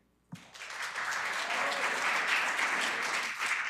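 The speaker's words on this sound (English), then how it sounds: "I do appreciate the applause and the support that we are giving our speakers" Audience applause at a city design review and preservation board meeting breaks out suddenly and holds steady, a moderately faint wash of many hands clapping.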